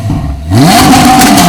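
An Audi R8 sports car engine blips and revs, a deep idle rising sharply into a loud, climbing howl that holds near and strong, with no talk.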